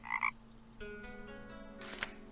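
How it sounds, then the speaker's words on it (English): A frog croaks in the video game Night of the Rabbit, a couple of short, close, clear croaks over a quiet ambient game backdrop with no talk. "Is that a frog I hear?"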